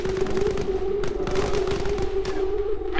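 Rapid gunfire rattles through a zombie-mode firefight in the video game Arma Reforger, with bursts of sharp cracks over a steady tonal drone, loud and close, in a busy, continuous mix.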